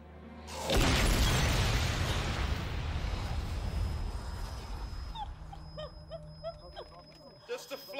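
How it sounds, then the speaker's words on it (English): A flash bomb goes off in the film Serenity, a sudden loud blast that rolls into a long, fading rumble before thinning out into scattered faint noises. "Just a flash bomb."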